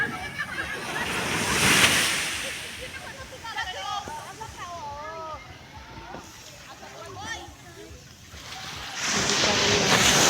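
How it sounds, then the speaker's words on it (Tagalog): Strong surf rolls onto a white sand beach at Lianga, Surigao del Sur, surging loudly at the start and end with windy rushes. People talk over the waves in the middle. "Malakas ng alon."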